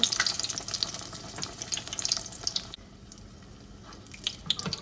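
Canned biscuit donuts drop into hot grease and fry with a crackling, bubbling sizzle, busy at first, then quieter before rising again.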